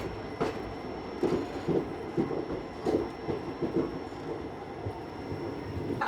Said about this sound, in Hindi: तो अपनी ट्रेन वाड़ी जंक्शन पहुंची है 7 मिनट लेट।